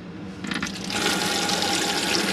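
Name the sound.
water running from tap into motorhome hand basin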